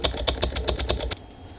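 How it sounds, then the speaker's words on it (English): Keyboard typing from the video game Emily is Away, a quick run of about eight crisp, evenly spaced key clicks up close, then stopping into quiet background. "Robotic typing."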